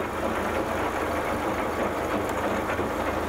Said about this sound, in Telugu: ఈ ట్రాక్టర్ యొక్క చక్కటి హైడ్రాలిక్స్ కారణంగా బంగాళదుంపలను భూమిలో సమానంగా విత్తుతారు